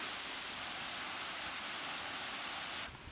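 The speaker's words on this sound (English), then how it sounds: "So that was for sure a very beautiful waterfall" A Hawaiian waterfall on Maui pours in a steady, close, broadband rush of falling water. The sound stays even and unbroken, then drops off sharply at the very end.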